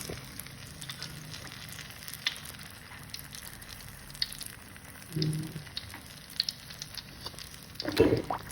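Martabak India fries in hot oil over a full flame, giving a soft, steady sizzle and crackle with a few louder spits and bubbling bursts, heard alone without talk.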